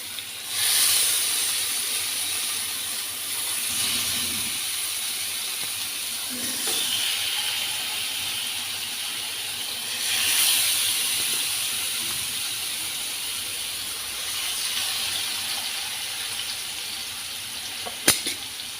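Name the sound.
green masala fish frying in hot oil in a frying pan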